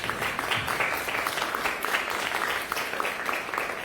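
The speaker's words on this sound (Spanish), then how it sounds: "Por favor, un fuerte voto de aplauso." Audience applause at a cultural and academic talk, a dense steady patter of many hands clapping at moderate distance, sustained for a few seconds without a break.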